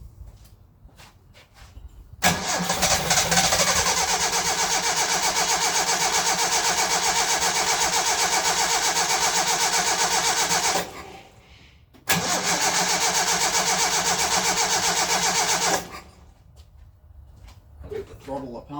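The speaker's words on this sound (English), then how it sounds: "I'm going to see if I can get this started with that fuel." Engine of a 1968 Datsun 1000 shed find fires up on fuel from a bottle and runs steadily and loudly, cuts out briefly, then restarts and runs again before stopping, with quiet handling sounds between runs.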